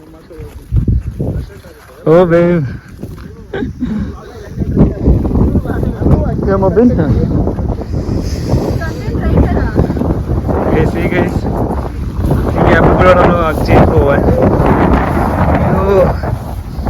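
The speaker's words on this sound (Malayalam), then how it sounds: "ഇവിടെ നല്ല കാറ്റാണ് കേസ് കിട്ടുന്നത് നല്ല കാറ്റ് നമുക്ക് നടക്കാൻ പോലും പറ്റുന്നില്ല" Strong gusts buffet the microphone on a mountain trek in Madikeri, a loud continuous roar under near, excited talk throughout.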